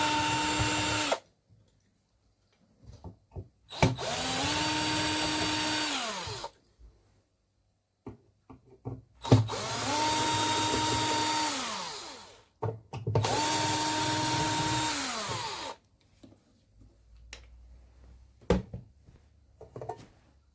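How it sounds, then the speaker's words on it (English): A cheap, not fully charged cordless drill from Temu whirs in several bursts of a few seconds each while opening an electronics casing, pitch rising and falling as it spins up and slows, with brief clicks and handling noises between. "Let's get the dog house opened with the Infinity Temu drill"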